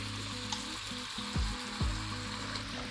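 Pan-seared chicken fillets and vegetables fry together in a pan, a close, steady sizzle interrupted by a couple of sharp spatula scrapes against the metal, with no talking.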